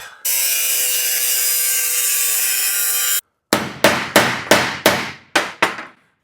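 Metal cutting on a 1941 Mercury floor pan: a steady, loud grinding-cutting whine for about three seconds, then a pause and a rapid series of seven sharp, decaying strikes, close and alone.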